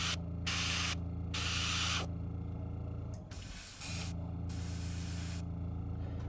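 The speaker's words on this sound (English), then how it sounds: "when you're just spraying very minimal amounts of paint like this and you're doing it in bursts" Short bursts of spray paint applied to a Fyreslayer miniature, heard as four separate loud hissing blasts of about half a second to a second each, with a steady electrical hum underneath and brief pauses between them.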